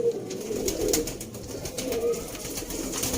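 A Sialkoti pigeon coos in soft, repeated low throaty calls close by, over a steady background hiss and faint chatter of other birds.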